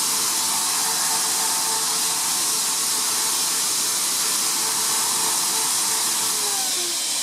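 Wagner electric paint sprayer spraying a projection screen coating, a steady loud airy hiss with a constant motor drone running unbroken throughout, no voices.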